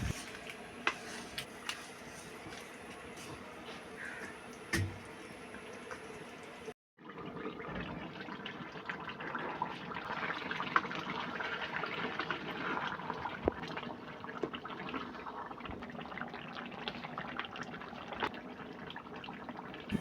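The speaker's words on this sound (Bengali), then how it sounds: "এখানে মাংস সিদ্ধ করার জন্য পানি দেওয়া হয়েছিল।" Water pours into a cooking pot holding beef to be boiled for a Khulna-style chuijhal beef dish, a steady close splashing and trickling stream that changes texture partway and runs on without talk.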